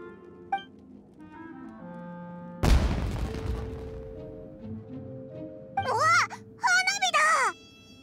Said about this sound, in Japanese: あそこで何か爆発したぞ。